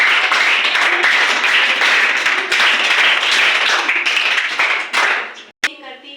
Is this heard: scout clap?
yes